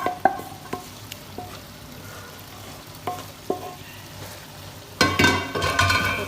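Boiled zucchini (tori) being stirred into a meat curry in a pan: sparse spoon knocks and scrapes over a low simmer, then a louder burst of sizzling and stirring near the end, close up, no talk.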